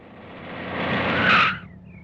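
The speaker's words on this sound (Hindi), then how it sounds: "ड्राइवर गाड़ी रोको।" A car brakes hard to a stop, its tires skidding in a squeal that builds over about a second and a half and then cuts off quickly. No voices are heard.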